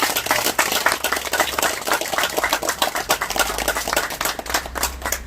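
Audience at a signboard unveiling ceremony for a Park Chung-hee research institute, clapping loudly together: dense, fast, irregular hand claps sustained for several seconds, close and without speech.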